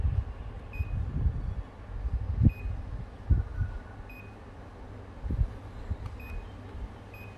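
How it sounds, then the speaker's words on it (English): Faint, brief electronic beeps from a Daikin air conditioner remote control repeat at intervals over low fan hum and soft thumps, small and thin against the background. "So you hear one single beep, right?"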